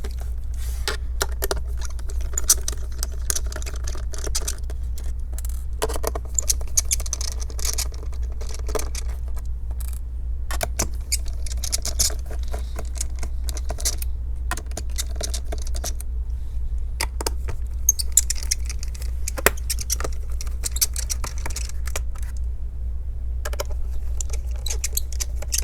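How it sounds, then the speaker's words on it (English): Small screws are backed out of an HP laptop with a PH1 Phillips screwdriver, giving faint, scattered scraping and tiny metallic clicks over a constant low electrical hum. "Remove the screws."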